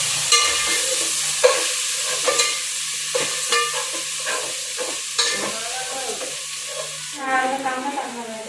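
Ginger garlic paste frying in hot oil over low gas for chicken biryani: a steady, close sizzle with scraping stirs throughout.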